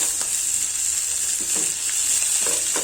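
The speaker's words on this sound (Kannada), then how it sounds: "ಅಂದರೆ ಹಸಿ ವಾಸನೆ ಹೋಗೋವರೆಗೂ ಇದು ಹುರ್ಕೊಳ್ಳೋಣ." Masala for egg sambar fries in a pan with a loud, steady sizzle, and soft stirring scrapes recur under the hiss.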